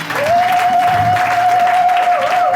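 Church congregation applauding, loud sustained clapping from a crowd filling the room throughout, with a steady high tone ringing over it and voices mixed in.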